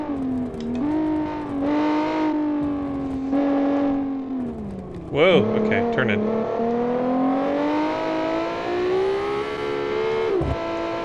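A car engine in the BeamNG Drive driving game revs and rises in pitch through the gears, with a brief sharp burst midway, heard close under intermittent talk from a player.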